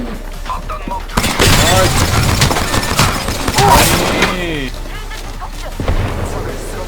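Video game gunfire erupts in loud, dense bursts of rapid shots after a brief quiet start, continuing almost nonstop over several seconds, with a voice talking beneath the shooting.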